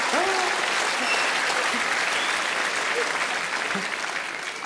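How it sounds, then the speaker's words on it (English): Comedy-club audience applauding after a joke, a dense burst of clapping with a few whoops from a group of girls from Dundee, loud at first and tapering slightly toward the end. "I like the fact the girls from Dundee applauded that."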